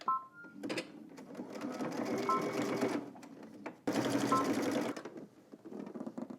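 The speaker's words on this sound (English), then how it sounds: "let's head to the machine and let's stitch both ends" A sewing machine stitches the hem ends of baggy jeans in two steady, close bursts of whirring, separated by a brief pause and ending with a few short runs and clicks.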